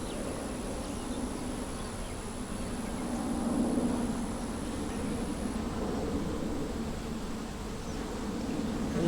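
Honeybees swarm around a hive entrance in a dense, steady drone of buzzing, close and continuous, swelling slightly at times with no speech.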